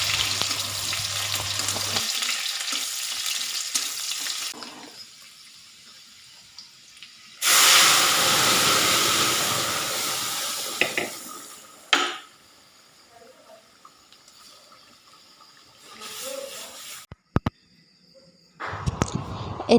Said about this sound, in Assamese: এতিয়া মই দালি সম্ভাৰ মাৰোঁ।